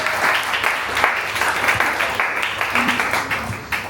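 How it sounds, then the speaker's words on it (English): A comedy club audience claps and cheers for a stand-up act, loud, continuous applause with scattered whoops across the whole stretch. "Clap your hands."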